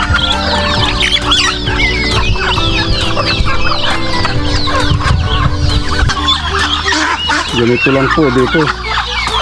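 Hungry farm chickens cluck, squawk and crow in a dense, loud, continuous racket at close range before feeding, with someone speaking briefly in the midst of the noise.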